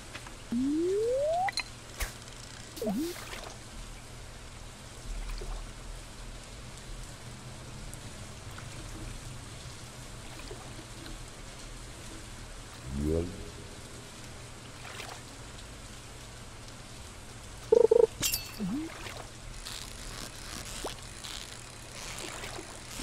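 Steady light rain patters throughout in the video game Stardew Valley, with a few brief tones and splashes rising above it, no voices present.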